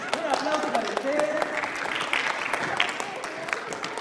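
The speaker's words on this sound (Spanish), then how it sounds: "Un aplauso para usted." An audience at an event for older people claps in a short burst of applause that runs under a speaking voice.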